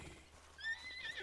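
A horse in Red Dead Redemption 2 gives a single short whinny, fairly faint against quiet game ambience, with a brief rising high-pitched call near the end.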